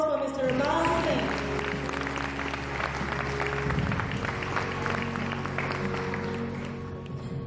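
Audience applause for education speaker Abbas Hussain at a university thought-leadership event, moderate clapping mixed with a tonal background and some voices, easing off slightly near the end.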